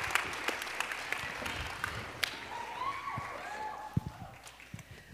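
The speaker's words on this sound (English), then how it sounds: "Give it up one more time for Ryan Deldar, Mercedes Schitt, and Matthe" Audience applause at a pageant crowning event, a dense sustained clapping crowd with occasional sharp claps and a few cheering whistles rising over it, continuing for about five seconds.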